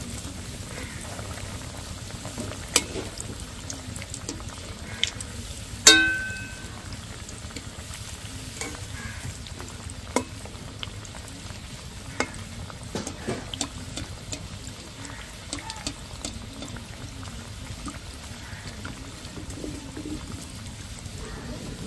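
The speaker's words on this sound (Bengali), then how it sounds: "তেল গরম হয়ে গেছে, এক এক করে আমি এবার চপগুলো ভেজে নিচ্ছি" Vegetable chops deep-frying in hot oil, a faint continuous bubbling sizzle with scattered small pops and one sharp clink, steady throughout and without talk.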